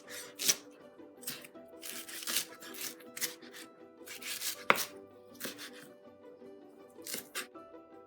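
A knife chops vegetables on a board for a vegetable lasagne: bursts of crisp strokes in uneven clusters, close and fairly loud, with quiet pauses between them and one sharp knock partway through.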